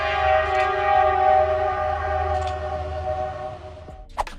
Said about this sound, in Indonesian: terlihat kereta yang meluncur melewati salju dengan kecepatan yang tetap dipertahankan.